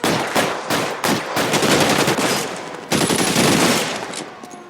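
Rapid bursts of gunfire from a shootout in the video game L.A. Noire, dense and loud, with repeated volleys and short gaps, alone without talk.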